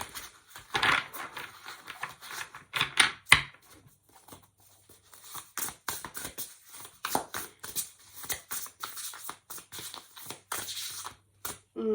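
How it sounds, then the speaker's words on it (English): An oracle card deck handled and shuffled before drawing a card, with irregular crisp slaps, flicks and rustles in uneven bursts, close and fairly quiet against near silence. "I'm going to pull just one card out of the oracle deck to set the vibe for the reading"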